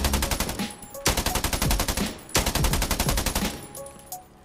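Rapid automatic bursts from the ASN rifle in Scarfall 2.0 training mode rattle out loud and close, two long strings of shots separated by brief pauses, with no voices over them.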